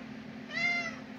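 A cat on a desk lets out a single short, clear meow, close and moderately loud, with no voices around it.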